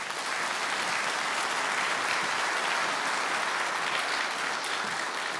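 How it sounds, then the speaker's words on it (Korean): Sustained, dense applause from a large audience fills the hall at a formal ceremony marking a broadcaster's family-reunion program's listing as world documentary heritage, loud and even throughout with no talk. "여러분 큰 박수로 맞이해 주시기 바랍니다"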